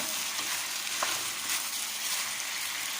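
Carrots, zucchini, fried cashews and peanuts stir-fry in a wok for kung pao chicken, a dense steady sizzle with faint stirring scrapes, close and continuous.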